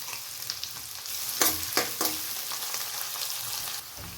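Onions, green chillies and curry leaves fry in a pan for vegetable upma, giving a steady close sizzle broken by a few sharp clinks and scrapes of stirring.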